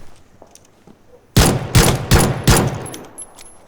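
Four loud, closely spaced gunshots from a 1911 pistol in PUBG, fired in a quick irregular burst after a quiet start, with faint background noise between them.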